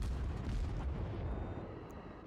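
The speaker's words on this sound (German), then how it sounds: "Und jetzt kommen auch schon die Schüsse." Naval artillery shells fire and explode in the World of Warships game as a loud, deep, rolling boom that rumbles steadily, then eases slightly toward the end.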